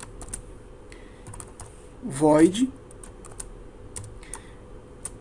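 Code being typed on a computer keyboard into a text editor while setting up an STM32F103C8 project in Keil uVision 5, a scatter of light separate key clicks spread across the stretch, with someone speaking briefly in the middle.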